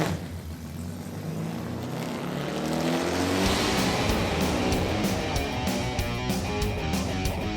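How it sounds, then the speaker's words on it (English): A car engine rumbles to life, then revs up in rising, throaty bursts with a sharp, rapid pulsing edge, loud and close, standing alone as an opening sound effect. "Okay, start your engine!"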